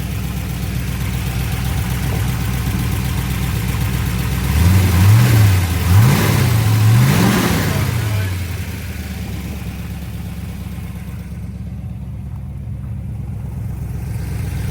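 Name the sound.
1965 Corvette L76 365 hp V8 engine running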